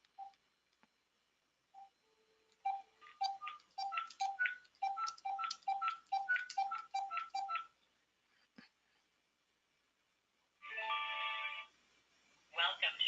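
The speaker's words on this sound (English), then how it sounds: "So let's dial in another party to the conference." Touch-tone keypad beeps dial into a conference bridge line on a MiVoice Connect phone system, a quick regular run of tones followed by a gap and then buzzy ring signals, clean and close with nothing else behind them.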